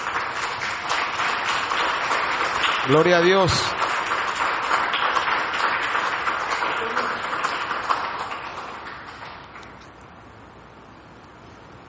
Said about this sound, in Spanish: Denle un aplauso al Señor por ello